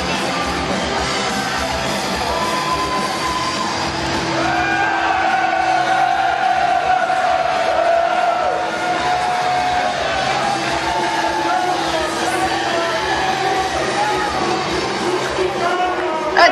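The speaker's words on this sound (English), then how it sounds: "Cheering." A wrestling crowd at SWE King of Switzerland III cheers and whoops steadily throughout, a dense, loud wash of many voices with occasional louder shouts rising above it.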